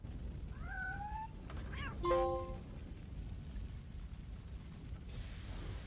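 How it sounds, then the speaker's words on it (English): A trapped kitten in the RoboCop video game gives a few short, high meows, followed by a brief bright tonal chime, all fairly quiet over a low background rumble. "we get the A Real Hero trophy for rescuing a trapped kitten"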